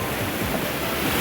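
A small stream with a bit of current rushes in a steady, dense wash of water noise, close and fairly loud, with no pause and no voices.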